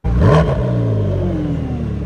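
A McLaren 650S-based limited-edition sports car with an aftermarket exhaust line roars sharply as it revs, then the pitch slides down into a throaty, fading rumble close by.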